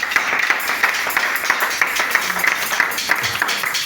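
Church congregation applauding in worship, steady rhythmic clapping from many hands, fairly loud and close, with no voices over it.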